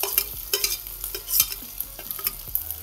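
Onion dropped into a pan with chili and mustard seeds while making jeera rice, with spoon stirring and clinks over a soft crackling sizzle, close and intermittent.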